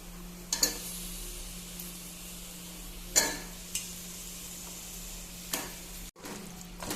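Cleaned chicken pieces are added to a cooking masala for a chicken gravy, with a steady sizzle from the pan and a few sharp clinks and scrapes of stirring spread across the moment.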